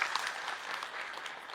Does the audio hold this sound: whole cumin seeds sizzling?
no